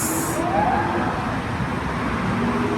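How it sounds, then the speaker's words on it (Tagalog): A police escort siren wails faintly amid road traffic, with engine and roadway noise around it. No voices are heard. "May escort na pulis."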